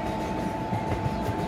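Train running in the Indian Train Simulator game, a steady rail rumble with a constant mechanical hum and faint rhythmic clatter, continuous and fairly close throughout.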